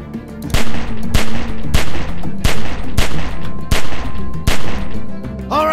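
Gunfire in The Walking Dead video game: about nine loud, close shots in a steady, evenly spaced rhythm, with a short metallic ring near the end.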